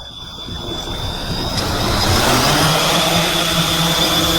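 A 3D Robotics drone flying nearby gives a loud, steady high-pitched buzz of motors that grows slightly louder partway through, with a broad wash of rotor noise and no talk.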